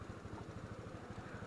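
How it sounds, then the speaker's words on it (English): A motorcycle idles to warm up after being moved off its stand, its low engine pulsing in a steady, regular rhythm at moderate distance with no talk. "I wanted to let her idle for a little bit to warm up"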